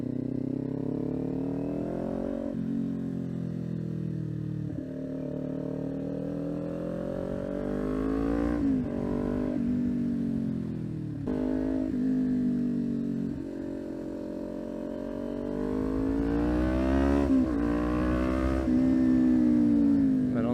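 A Kawasaki Ninja 400 motorcycle is ridden hard through tight corners, its engine note rising and falling steadily across the whole stretch as the revs climb and drop through gear changes and throttle shifts.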